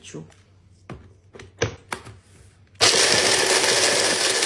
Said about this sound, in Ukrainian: І просто я їх у блендері